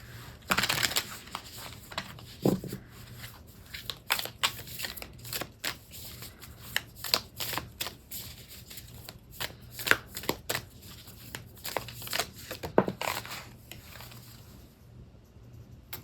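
Moon Witch Oracle cards are shuffled steadily for about fifteen seconds, a close, dry run of riffling flicks and slaps with no talking.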